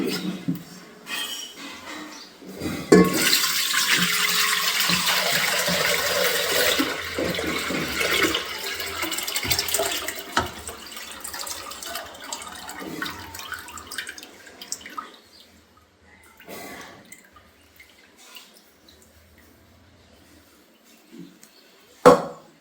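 Water splashes and swishes as a pot for making ghee is rinsed, then poured out in a steady gush, followed by a few quieter clinks and drips.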